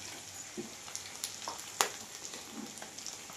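Goat offal frying in a pan before spices go in, a soft steady sizzle with a few light clinks and stirring scrapes, fairly quiet and close, no talking.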